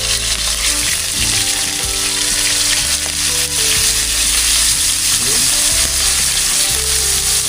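Loud, close crackling and sizzling of fish frying in hot oil, continuous and busy, with occasional stirring clatter beneath.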